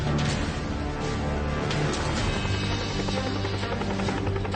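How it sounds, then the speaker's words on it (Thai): A military helicopter evacuates injured people during army medical field training for military medical students, its rotor a loud, steady, close roar with a rhythmic thudding throughout and no voices. "เฮลิคอปเตอร์เคลื่อนย้ายผู้บาดเจ็บในภาวะฉุกเฉิน"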